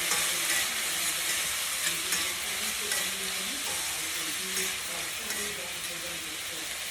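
Pesto pasta is tossed in a hot pan, giving a soft continuous sizzle and hiss with faint stirring scrapes, fairly quiet and steady.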